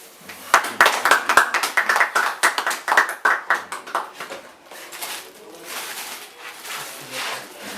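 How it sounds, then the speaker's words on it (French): Audience at a crowning ceremony for the first graduating class of ISTM Mbujimayi claps in sharp, distinct bursts that thin into scattered, softer clapping, with little talk. "Applaudissez quand même."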